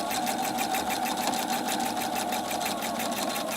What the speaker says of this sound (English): I'm going to reverse a few stitches, just like that.